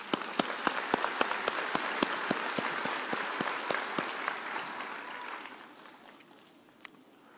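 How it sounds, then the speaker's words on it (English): Applause at a 2022 spring university commencement ceremony, a steady crowd of clapping with a few sharp close claps standing out, fading off toward the end. "Let's give them a round of applause."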